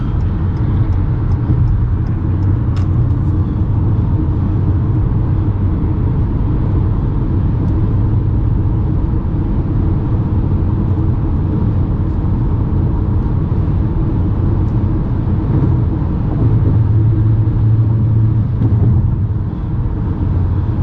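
A Ford Maverick XL Hybrid pickup cruises in freeway traffic, heard from the cabin as a constant loud low road rumble and wind roar with no break.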